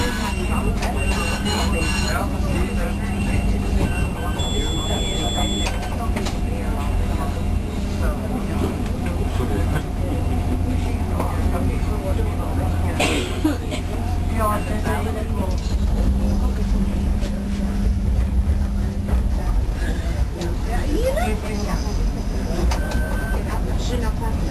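A tram rolling through Oostende, Belgium, past the inner harbour: a continuous low rumble and rattle of the car in motion, with faint squeals and voices over the ride.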